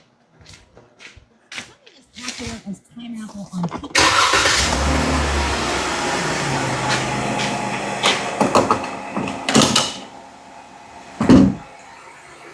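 A 2013 Ram with the 3.6 engine, under a check-engine light for an evaporative leak code, cranks and catches, then idles with a steady mid-level hum, with a person talking before and during the start and clunks near the end.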